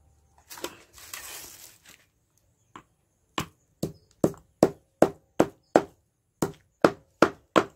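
Pepper, cumin and fennel seeds are lightly crushed, first with a brief rough grinding scrape, then with a series of about a dozen crisp, evenly spaced pounding knocks, close and clear.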